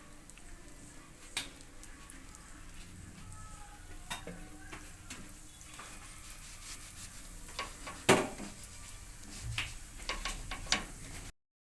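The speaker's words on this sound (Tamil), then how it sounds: "ப்ரெட் வந்து ரோஸ்ட் ஆகிடுச்சு திருப்பி போட்டுக்கலாம் கொஞ்சமாக வந்து ஆயில் விட்டுக்கலாம்" Masala bread roasting in oil in a pan gives a steady low sizzle, broken by a few sharp scrapes and clinks of a spatula turning the slices, with no one talking.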